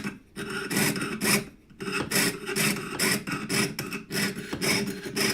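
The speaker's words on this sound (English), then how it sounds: "Nice long strokes when you're sawing." Rhythmic rasping strokes of a hand saw cutting, about a dozen even back-and-forth pulls with brief pauses, close and loud.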